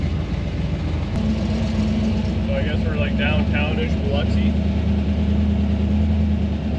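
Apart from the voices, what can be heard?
car driving along the strip in Biloxi at night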